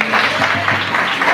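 Congregation clapping hands at a Tamil Sunday church service, a steady rhythmic run of claps in time with singing, fairly loud and close.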